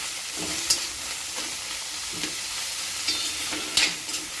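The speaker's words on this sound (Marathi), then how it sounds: "तिखट टाकल्यानंतर छान असं परतून घ्यायचं" Karadi leaf bhaji sautéed with chili powder in a pan, a steady close sizzle with occasional scraping stirs and light clinks, alone without talk.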